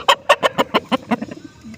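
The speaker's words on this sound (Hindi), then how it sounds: "दोनों मुर्गियाँ भी अंदर आ गई हैं" Two hens cluck as they come inside, giving a quick run of about ten close, loud clucks that slow and fade toward the end.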